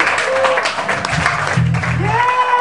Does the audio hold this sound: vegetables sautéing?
no